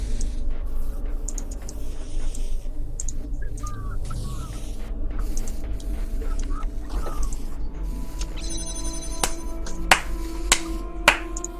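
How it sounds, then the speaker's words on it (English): A few sharp hand claps ring out near the end, loud and close, following scattered lighter taps over a quiet background hum. "Because I'm clapping."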